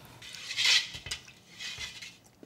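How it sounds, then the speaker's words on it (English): A spoon scoops salt into a bowl of radish water kimchi made with apple broth, giving a few light metallic clinks against the bowl, bright and close, with quiet gaps between them. "I will add 3 tablespoons salt."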